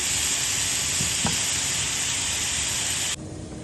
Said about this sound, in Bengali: নেড়ে চেড়ে মশলাটাকে আমি কিছুক্ষণ কষিয়ে নিচ্ছি